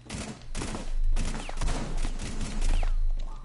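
Video game gunfire in rapid, dense bursts, with repeated shots crackling close and loud across the whole stretch.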